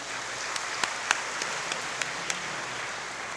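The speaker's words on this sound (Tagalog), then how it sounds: "Bigyan natin mahal na Panginoon isang malakas na palakpak." A church congregation applauding at a Third Sunday of Advent Mass, a soft steady patter of clapping with a few sharper individual claps standing out, fairly distant, no voices.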